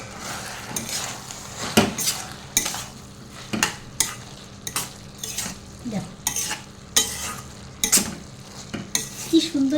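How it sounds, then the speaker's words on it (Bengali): A spoon stirs banana flower ghonto with a little ghee in a metal pan, giving repeated scraping clinks at a fairly regular rhythm over a low sizzle, close and clear, with no talking. "এবারে সমস্ত কিছু আমি ভালো করে আর একবার নেড়ে দেবো"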